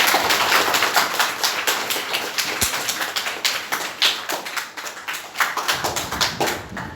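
Students at a government senior secondary school in Chakarpur, Gurugram clap together in a sustained round of applause, dense and steady, with no talk over it.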